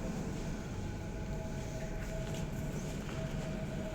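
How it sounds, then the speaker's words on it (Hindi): A Delhi metro train approaches, a low rumbling roar with a thin high whine, fairly faint and steady, as if arriving at a platform. "ये मेट्रो आ चुका है गाइस"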